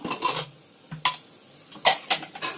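A metal lid comes off a cooking pot of onions and tomatoes simmering in oil, making three sharp clanks spaced about a second apart, close and fairly loud.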